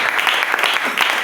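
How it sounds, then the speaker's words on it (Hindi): Congregation clapping during a Hindi church sermon, a short burst of fairly loud, busy hand claps with some rhythmic pulsing, heard without speech over it. "ताली दे सकते हैं हम।"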